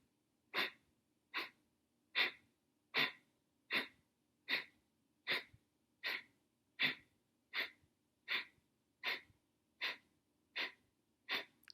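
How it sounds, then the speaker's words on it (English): Rhythmic forceful Kapalabhati exhalations, about fifteen sharp, evenly spaced breath bursts, close and clear at a steady pace with no talking. "Kapalabhati breath"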